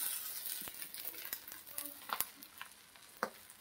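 An omelette fries in oil in a pan, a soft continuous sizzle with crackles and small pops scattered throughout, close but fairly quiet.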